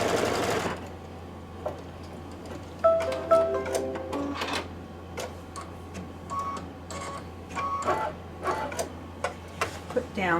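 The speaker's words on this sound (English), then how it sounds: "now it will stitch out the placement line for the background fabric" An embroidery machine stitches a placement line for background fabric on a quilted Santa table runner, giving a rapid mechanical whirring burst, then short intermittent stitching runs with small beeps and ticks, with some talk in between.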